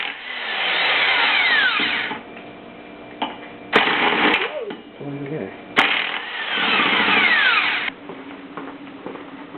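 A power tool spins out bolts from a Jeep Wrangler Dana 30 front differential clamped in a vise. It whines loudly in two long sustained runs, with several short sharp bursts in between.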